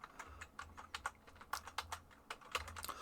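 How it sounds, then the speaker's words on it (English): Typing on a computer keyboard to enter a web address into a browser, a steady run of crisp keystrokes alone with no voice over them. "if you go to browser and you just type in"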